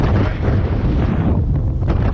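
Strong wind on a cloudy, rainy day in England buffets the microphone with a loud, rumbling low roar that gusts continuously and briefly eases.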